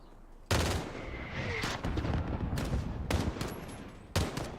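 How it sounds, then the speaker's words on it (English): Mortar fire booms in the video game Call of Duty: Modern Warfare (2019), with four sharp, heavy blasts spaced a second or so apart over a rumbling battlefield background. "There's still a mortar out there."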